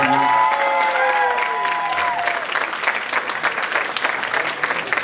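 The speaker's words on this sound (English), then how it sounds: "Get another round of applause." Applause from an audience at an April Fools' Day event, loud and sustained throughout, with a few brief whistle-like tones near the start.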